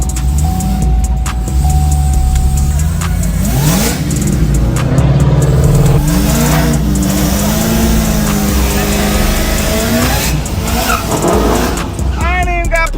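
Car engine revving and accelerating hard at close range as a Chevrolet Caprice makes a pass, the pitch climbing and falling through the gears, with someone talking over it.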